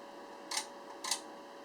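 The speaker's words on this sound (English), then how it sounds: "this is the shutter, which is semi-functional" An old, semi-functional film camera shutter clicks twice, two sharp close snaps about half a second apart against a faint steady hum.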